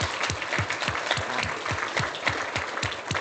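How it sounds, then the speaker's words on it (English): Room of attendees at a CESMII smart manufacturing event gives a round of applause, individual claps distinct and fairly near within a moderate, even patter, no voices over it. "Can we give up one more round of applause"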